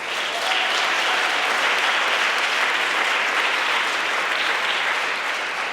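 Steady applause from a conference audience at a youth prize ceremony, continuous and fairly loud throughout with no voices over it.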